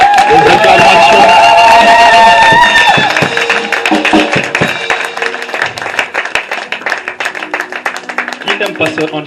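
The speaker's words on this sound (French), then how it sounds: "Des acclamations, s'il vous plaît, pour sa vie." A church congregation cheering and clapping for Pastor Angèle during a service: a loud, sustained burst of applause and cheers rises after a voice at the start, then continues as rapid scattered clapping.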